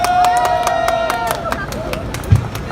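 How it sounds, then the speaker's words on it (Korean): At a protest rally marking the 10th anniversary of the Yongsan tragedy, a crowd claps in a quick rhythmic beat under sustained voices and tones from a loudspeaker. "박수 한번 쳐볼까요?"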